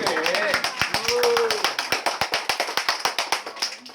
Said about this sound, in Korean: 박수, 박수 쳐야 돼